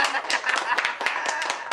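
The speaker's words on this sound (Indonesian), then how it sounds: "Tepuk tangan." Audience clapping at a lively Indonesian comedy show as a performer is introduced, a dense burst of many hands heard close and steady over its short length, with background voices mixed in.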